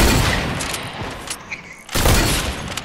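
Rapid gunfire in a video game, dense bursts of shots and booms filling the clip, briefly easing before another loud volley.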